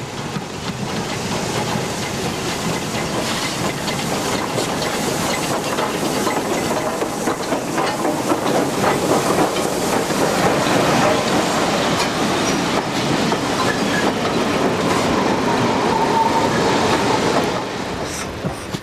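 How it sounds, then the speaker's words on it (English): A steam-hauled holiday train bound for Skegness rumbles steadily into a north-facing loop line with a continuous clatter of wheels and a faint squeal, loud and sustained before easing slightly at the end. "A holiday train bound for Skegness from the Midlands enters the north-facing loop."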